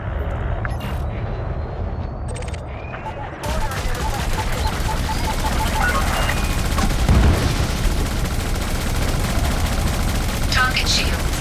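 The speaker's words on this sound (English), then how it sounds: "Shots are being exchanged at Alpha." Sustained exchange of rapid gunfire in a high-intensity combat zone in Elite Dangerous Odyssey, steady loud bursts continuing throughout with a sharper jump in intensity partway through, and talk beneath.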